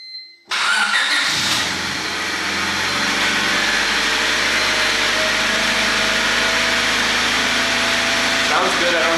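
A 1997 Honda Civic D16Y8 engine starts after a valve lash adjustment and settles into a steady close idle, with a person talking briefly over it.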